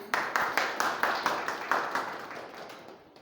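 A room of teachers at an in-house science training session breaks into a round of applause, a dozen or so distinct clap bursts that gradually fade out, with a brief voice underneath.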